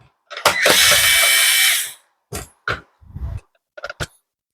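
A power screwdriver whirs for about a second and a half on a Dyson V10/V11 cordless vacuum, followed by several short, sharp clicks and brief bursts as screws are backed out, close and crisp against silence.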